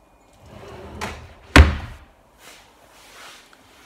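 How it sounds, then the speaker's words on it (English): An oak dovetail drawer box with a push-to-open tip-on mechanism under a desk slides open and then shuts with a firm thump, followed by faint sliding and knocking sounds, close by. "let me show you the mechanism on the drawer here under the desk. It's just a tip on."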